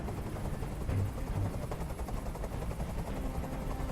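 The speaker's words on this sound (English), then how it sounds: "I can't stand that noise anymore. Tell that helicopter to get out of here." Helicopter noise in the video game Detroit: Become Human, a loud, continuous rotor thrum with a fast chopping pulse that fills the scene throughout, with no talking.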